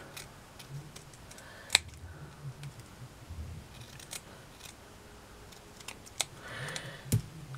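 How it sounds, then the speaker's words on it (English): Scissors snip excess bits from a handmade pearl choker in a few faint, sharp clicks spread out over quiet, close-up room tone, with no talk. "I need to cut that down a little bit."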